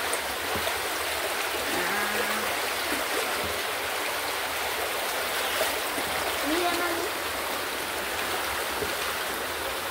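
Floodwater of the swollen Cravo Sur river rushes past steadily, a continuous broadband roar of fast-moving water close by, with faint voices occasionally audible beneath it.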